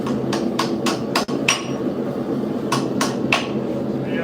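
Sharp, ringing hammer blows striking a woodworking gouge tool, about nine close, loud hits in two quick bursts separated by a short pause.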